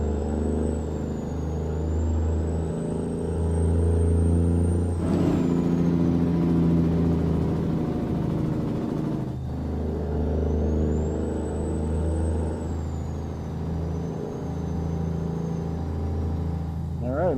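Kenworth Legacy truck in American Truck Simulator with a loud engine mod, a steady low diesel drone that rises and falls through gear changes, with a whistling whine overhead, a voice speaking over it.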